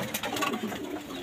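Pigeons coo softly in a short, low burble, the sound close and continuous, with no voices over it.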